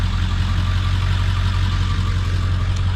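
A pickup truck engine idles close by, a steady low rumble with an even throb that holds without a break for a few seconds.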